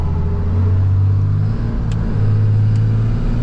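A pickup truck engine revs loudly and close, a deep sustained roar that dips briefly and swells again, with no talk over it.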